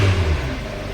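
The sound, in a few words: Hyundai car engine running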